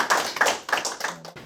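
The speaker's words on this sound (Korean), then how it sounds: "박수 쳐야 되는 거" A few people at a Korean journalists' club assembly clap briefly after a new president is elected, making a short burst of sharp, close handclaps that fades quickly.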